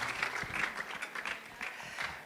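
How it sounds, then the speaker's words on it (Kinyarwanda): A church congregation applauding, a dense run of clapping that carries on steadily at moderate distance. "Give a big round of applause, O God."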